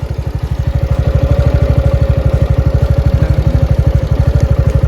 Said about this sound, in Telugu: చైన్ చాలా ప్రాబ్లం సౌండ్ వచ్చేస్తుంది బాగా